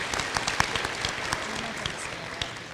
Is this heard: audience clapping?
yes